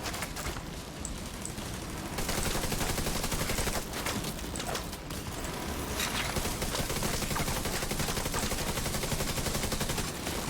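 An automated turret in The Division 2 video game fires rapid, sustained bursts of gunfire that run almost without pause, loud and close, amid the wider din of combat.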